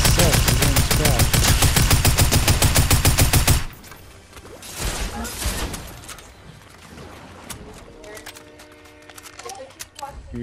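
Loud, rapid automatic gunfire in a video game rattles in a dense burst for the first few seconds, then gives way to quieter, scattered shots and background game noise.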